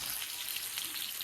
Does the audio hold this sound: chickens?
no